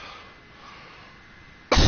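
A person coughs at the very end, a sudden loud close burst after a quiet stretch of faint background noise.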